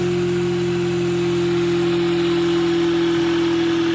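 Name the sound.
magnetic generator spinning at 2800 RPM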